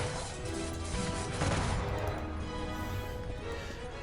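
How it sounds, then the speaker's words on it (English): Musketeers fire a volley in Cossacks 3, a dense crackle of gunfire with a sharp burst near the middle, continuing as a steady loud battle din for about four seconds. "Okay, now we can turn and fire."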